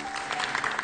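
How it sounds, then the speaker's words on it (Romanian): Brief burst of applause for Grigore, a dense clatter of clapping hands from an audience, loud and continuous for under a second with no talk over it. "Zic să-l aplaudăm pe Grigore."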